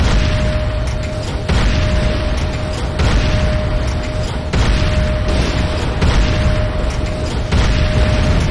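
Structure destruction explosion in the video game Renegade: continuous loud, dense rumbling blasts with repeated booming bursts roughly every second or so, plus a steady tone running underneath throughout.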